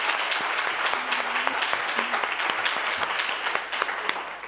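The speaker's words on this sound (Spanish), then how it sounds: "yo creo que le vamos a aplaudir" Audience applause at a talk by writer Rosa Montero: steady, enthusiastic clapping from a seated crowd in a hall, close and continuous with a few sharper individual claps standing out.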